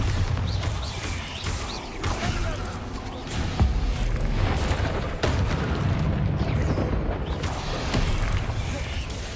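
Repeated Bombarda spell explosions in the Hogwarts Legacy video game, booming blasts with crashing debris that keep up a loud, dense roar throughout, with sharper bursts standing out.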